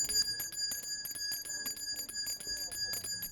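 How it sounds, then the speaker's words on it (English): A hand bell rung repeatedly for a Christmas charity collection outdoors, fast bright metallic jingling strokes in a steady rhythm, carrying on without pause through the clip. "And I love ringing the bell for him."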